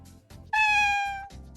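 A human voice imitates an Animal Crossing cat villager, giving a single clear, drawn-out meow that rises then fades, set between soft mouth noises.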